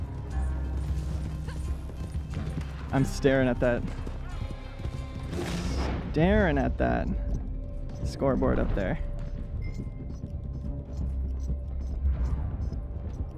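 Horse hooves clopping and a whinny in the Red Dead Online video game, heard under steady game music and gunfire-like crashes while someone talks over much of it.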